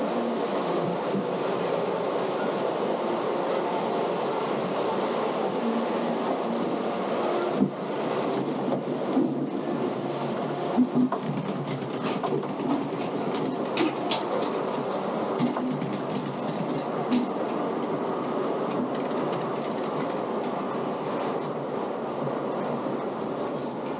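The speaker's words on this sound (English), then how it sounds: "Let's climb the first lift hill and get soaked!" Riding a log flume boat up the first lift hill brings a steady rumbling clatter of the chain lift and rushing water, with wind buffeting the microphone and faint scattered clanks, sustained and fairly even throughout.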